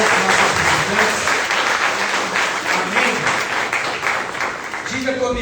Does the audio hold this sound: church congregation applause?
yes